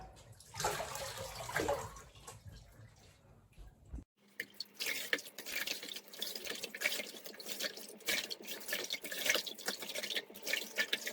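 Water splashes and pours steadily from a tub over a Papillon dog in a sink, with dripping and sloshing after a brief pause; no voices.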